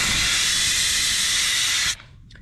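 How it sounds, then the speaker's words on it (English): Air hisses out of a Jeep tire through an ARB tire deflator, a steady loud close-up rush for about two seconds that cuts off abruptly, followed by quiet. "We're airing down our tires."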